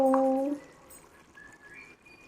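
Water pours briefly into a pot of mutton curry being cooked at home, a short close splash at the start fading into a quiet trickle and faint kitchen background.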